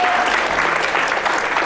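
Audience applause at a wellness talk on the vagus nerve, a dense, loud, continuous wash of many hands clapping with no voices over it.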